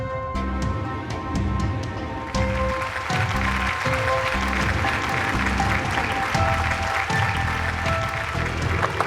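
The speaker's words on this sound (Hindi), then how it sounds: "अपनी तालियां बचा के रखिए।" An audience applauds loudly and continuously at a stage event, a dense and steady clapping that carries on without pause.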